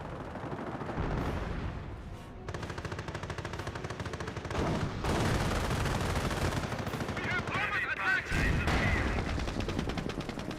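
Artillery shells and gunfire pound a Panther tank in the World War II strategy game Company of Heroes, with rapid overlapping bursts and heavy booms rolling continuously at close range.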